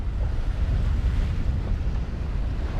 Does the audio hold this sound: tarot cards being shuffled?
no